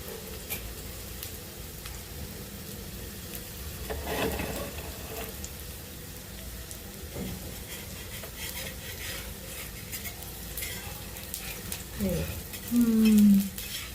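Potato patties fry in a pan with a little oil while being turned, a soft, low sizzle with faint spatula and pan contact.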